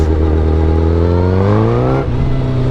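A motorcycle fitted with velocity stacks revs up to about 3,000 RPM, its loud engine note climbing steadily in pitch before settling into a steady pull near the end.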